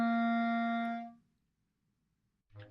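A beginner's clarinet sounds a steady, clear low note for about a second, then falls silent, with a brief faint sound near the end.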